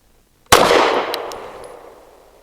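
A single sharp gunshot from a BUL Armory Ultralight PRO pistol, loud and close, with a long ringing tail fading over about two seconds.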